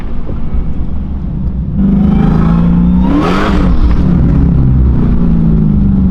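A car engine, just serviced with cleaned fuel injectors after 30,000 miles on E85, idles with a low steady rumble, then revs up in a rising whir that peaks and settles back to a smooth, loud idle.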